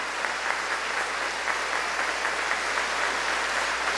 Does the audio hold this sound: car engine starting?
no